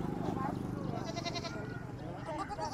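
Mountain grass goats bleat at a busy Northwest livestock market, their calls mixed with steady crowd chatter and someone talking over the din.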